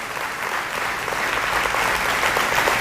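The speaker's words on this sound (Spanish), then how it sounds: "Vamos a darle ese aplauso a Él y a exaltar su precioso nombre." Steady applause from a church congregation praising God during a Spanish-language sermon, a dense, even patter of many hands that carries on without a break.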